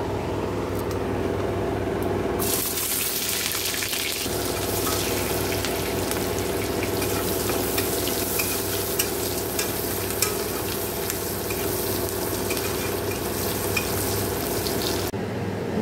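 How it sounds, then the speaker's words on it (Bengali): Dal tempered in hot oil with five-spice, dried red chilli, onion and papaya gives a loud, steady sizzle with stirring scrapes throughout, the frying briefly quieting near the start and surging back. "তো ডালটা ফোড়ন দিয়ে নিই।"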